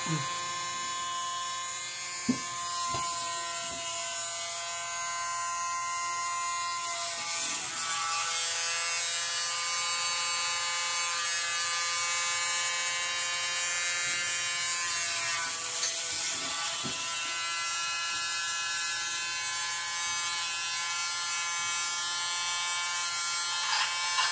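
Air is blown across acrylic paint on a 24-inch convex canvas during a purple Dutch pour, a steady close buzzing whir that runs throughout, with a few faint clicks and a voice in the background.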